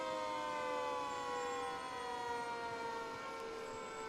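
Fire engine siren during a holiday parade in Milford, a long wailing tone sliding slowly downward, heard at a moderate distance without talk.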